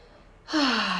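A single drawn-out human yawn during a guided relaxation exercise, rising suddenly and held as a breathy, voiced exhale that slowly falls in pitch.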